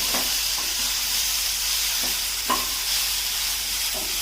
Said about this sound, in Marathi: आता काजू घालूया कोथिंबीर पुन्हा पाच मिनिटं परतून घ्यायचं आहे